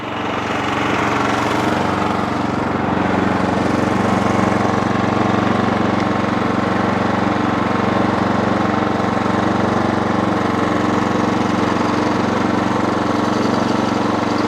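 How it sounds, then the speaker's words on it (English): An Ariens Pro snowblower engine, rusty and neglected, idles steadily while warming up, a loud, even, continuous drone with no talk over it. "Now, as the engine warms up, so will your hydrostatic transmission"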